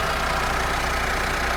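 A 2023 Mitsubishi Strada pickup truck engine idling, heard up close as a loud, steady mechanical rumble with an even low pulse throughout and no talking.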